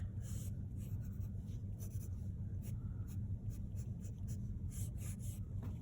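Pencil drawing on paper, sketching icing details on a cupcake during an art class object study, with steady soft scratchy strokes in short bursts over a low room hum.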